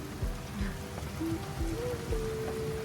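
Rain falling steadily, a soft continuous patter across a surface with faint tonal hum from the surroundings and no voices.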